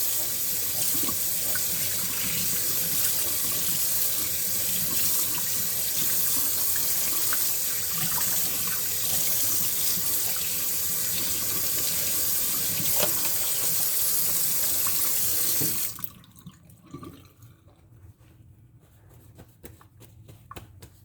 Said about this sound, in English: let's just go ahead and rinse it, and you want to make sure you're using cold water